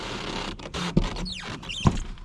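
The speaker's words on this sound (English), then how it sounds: "I know that roof is squeaky." A squeaky roof on a rabbit cage creaking and scraping as it is moved, with a few sharp knocks and rising squeals in the middle, fairly close, with no talking.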